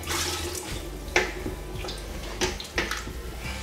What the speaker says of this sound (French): je vais rajouter encore de l'eau